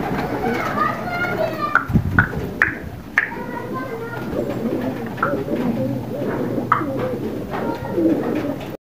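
Pigeons coo repeatedly in soft rolling calls at a pigeon-keeping spot, close and clear, while voices talk and children are heard in the background.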